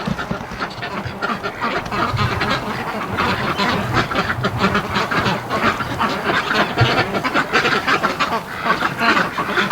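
A flock of breeding ducks quacking nonstop as they rush home from a mud pit across a pen, dense overlapping calls and wing and foot commotion, loud and close throughout.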